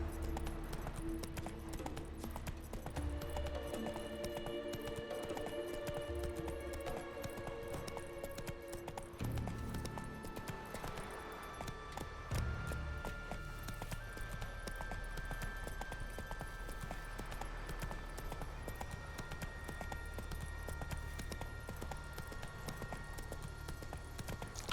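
Roach the horse gallops in The Witcher 3, a steady rhythmic clatter of hooves running on without pause, mixed under game music and ambience at moderate loudness.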